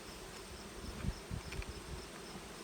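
Honeybees in a single-box hive, tipped back by a beekeeper to expose the brood nest, give a faint, steady buzz with a few soft low thumps and knocks from handling the boxes.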